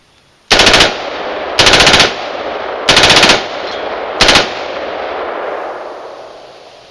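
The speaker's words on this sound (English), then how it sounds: "That is an assault weapon, not the first one." An assault rifle fires four loud, close bursts of rapid automatic fire, each lasting under a second and separated by short pauses, with the echo of the last burst trailing off.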